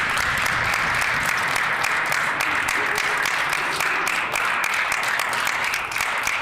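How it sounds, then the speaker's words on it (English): Sustained applause from both sides of a provincial legislative chamber during a House sitting, steady and dense clapping filling the room at an even loudness throughout. "it is not very often in this House that I get applause from both sides"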